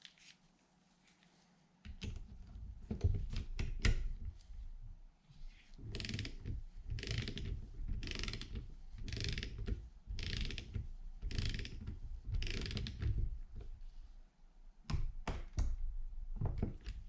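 Scuba regulator first stage, an Apeks XTX 50 DST, being clamped into a bench vise: repeated rhythmic ratcheting clicks and mechanical grinding from the vise handle and jaws, close and fairly loud, in bursts after a quiet start.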